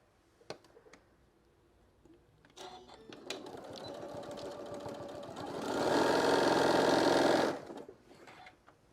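Sewing machine stitching fabric for a shoulder wrap: scattered clicks and handling at first, then a steady mechanical whir that swells for a couple of seconds before stopping, close and fairly quiet.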